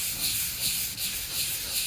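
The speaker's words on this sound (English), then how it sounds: "There's no grain that I'm sanding. I'm just sanding shellac." Sandpaper works back and forth across a cured shellac finish to flatten small ridges, cross grain, giving a close, rhythmic raspy hiss that rises and falls with each stroke, with no speech.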